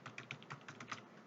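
Someone types on a computer keyboard, entering table data into an Excel worksheet. The keystrokes come in a quick, even run of light clicks, soft and close, with no voices.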